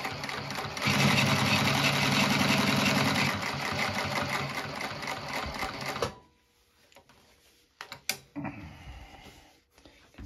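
A Bridgesew 1541 sewing machine runs fast and steady for about five seconds, close and loud, then stops, followed by a few faint clicks and handling sounds.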